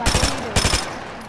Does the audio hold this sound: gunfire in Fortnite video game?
yes